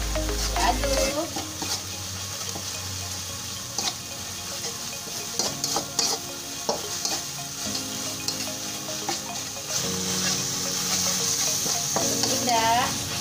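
Food frying and being stirred in a pan after kaffir lime leaves go in, with steady sizzling and repeated scraping strokes throughout, close and fairly loud.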